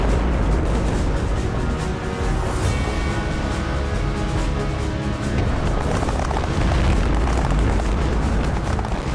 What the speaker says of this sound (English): The final straw is the devastating explosion of an ammunition wagon.